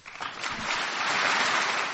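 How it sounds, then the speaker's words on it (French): Audience applause following George W. Bush's farewell speech, a steady, dense wash of clapping that swells quickly and holds at full strength with no talk over it. "Sortie discrète et applaudissements nourris pour ce message d'adieu"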